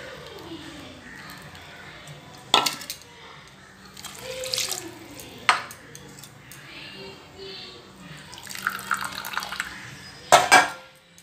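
Measured coconut milk is poured in a home kitchen while making coconut milk rice. Liquid trickles and splashes come in several short bursts, each ending in a clink of a vessel, with quiet pauses between them.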